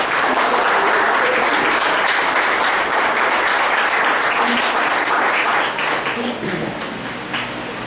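A church congregation applauds in a dense, sustained wash of clapping that holds steady for several seconds and then slowly tapers off.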